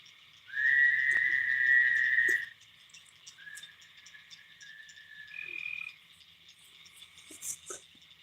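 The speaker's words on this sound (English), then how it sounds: "I think those are pretty much tree frogs. Well, tree frogs and crickets, I guess." Tree frogs and crickets call at night beside a fishing spot, one loud sustained trilling frog call up close followed by fainter, longer trills, while a steady high cricket chorus runs underneath and a few small clicks and splashes come through.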